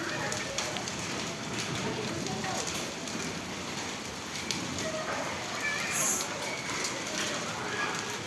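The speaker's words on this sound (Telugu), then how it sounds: "ఐస్ తోటి రెయిన్ఫాల్ పడుతుంది, చూస్తురు కదా ఎట్లా పడుతుందో" Hail falling as ice rain makes a dense, continuous patter on the surfaces nearby, and a voice talks over it throughout.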